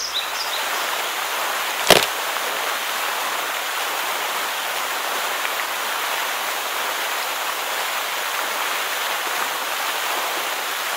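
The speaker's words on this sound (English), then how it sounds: "Took a look at this mini waterfall." Small creek spilling over a mini waterfall in the bush after rain gives a steady, close rushing hiss throughout, broken once by a short sharp knock near the start.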